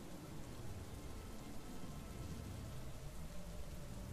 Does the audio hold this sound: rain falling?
yes